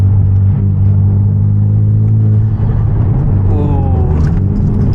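A Genesis Coupe with a loud aftermarket exhaust rumbles steadily while driving at night, a deep droning tone that shifts in pitch as it revs, with a brief whistling turbo flutter near the end, close and loud.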